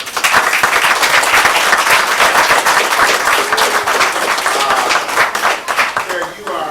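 Sustained applause from a company outing crowd greeting a guest named Carrick, loud and steady with dense clapping that eases slightly near the end.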